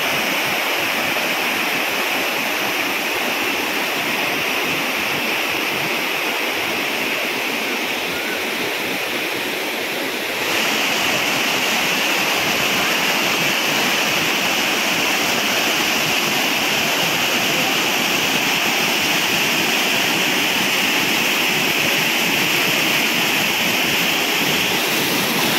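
Vadattupara waterfall, Kothamangalam: a steady, loud broadband rush of water pouring over rocks, continuous and close with no voices, the roar brightening slightly partway through.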